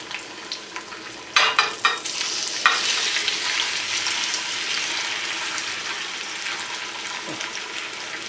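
Potatoes tipped from a bowl into hot oil in a pan burst into a loud sizzle after a few soft knocks, and the hiss holds steady and close until the end.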